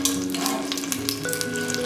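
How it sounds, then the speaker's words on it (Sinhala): Oil crackles and sizzles steadily in a pan on a stove in a home kitchen, a continuous close frying hiss with small pops throughout. "ඉන්පසු භාජනයක් ලිප තබා පල් තෙල් සල්පයක් දමා"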